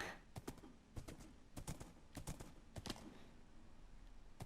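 Horse hooves in Minecraft clatter in short bursts of sharp clip-clop steps, loud and close, with quieter gaps between the groups of steps.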